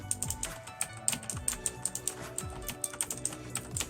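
A mechanical keyboard fitted with Razer switches clacks under quick, uneven bursts of typing, close and crisp with many sharp keystrokes.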